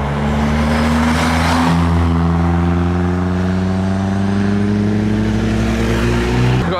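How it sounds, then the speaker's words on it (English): A Jaguar pulls away from the Castle Combe circuit, its engine note loud and close, climbing steadily as the car accelerates and holding strong to the end. "We've got a Jaguar leaving."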